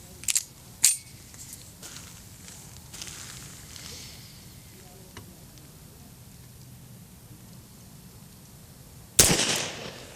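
A Beretta M-96D Police Special pistol fires outdoors on a misty day: two sharp reports come close together at the start, then a quiet gap, then one louder crack near the end.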